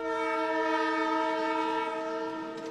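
Train horn in a Hindi film, a loud, steady multi-tone blare held for nearly three seconds before tapering slightly, with faint rail noise beneath and no speech.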